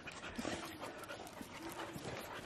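Dogs pant and move about after a rainstorm on a homestead, with faint breathing and small rustles heard up close and fairly quiet.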